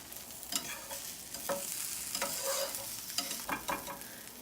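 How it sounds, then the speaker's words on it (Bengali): Okra shallow-fries in hot oil, crackling softly and continuously while a utensil stirs and scrapes the pan in repeated short strokes, close but fairly quiet. "আমি এখানে ঢ্যাঁড়সগুলো শ্যালো ফ্রাই করছি"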